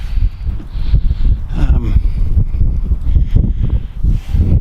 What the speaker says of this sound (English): Quite windy at the moment.